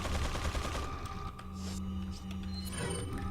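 Gunfire from weapons in the Resident Evil 4 video game, a loud burst of shots in quick succession under dense game sound, with a sustained droning tone running beneath the shooting.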